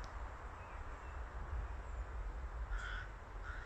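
Rooks caw at an outdoor rookery with nests high in the trees, a few faint, distant harsh calls standing out over steady wind and ambient noise.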